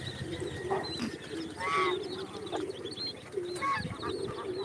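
Pet pigeons coo in low, repeated calls while others fly about overhead, with faint chirps mixed into a busy outdoor backdrop.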